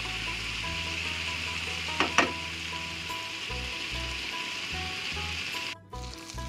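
Small prawns fry in a pan as the lid comes off and they are stirred, giving a loud, steady, close sizzle with a few scraping stirs and a brief dip near the end.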